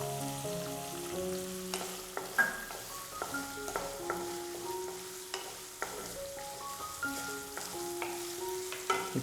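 Green chillies sizzle softly in a pan with chopped shallots for vegetable rava khichdi, a low frying hiss with occasional stirring knocks beneath louder background music.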